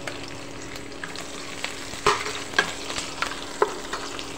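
Chopped ginger, garlic and green chili sizzle in a pan for a crab roast, with a spoon scraping and clicking against the pan in irregular strokes over a steady frying hiss.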